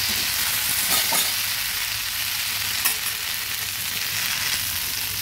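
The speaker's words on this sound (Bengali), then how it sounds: "আবার একটু নেড়ে চেড়ে দিচ্ছি" Pumpkin and long bean bhaji frying in a covered pan, a continuous loud sizzle broken by a few brief stirring scrapes, with no talking.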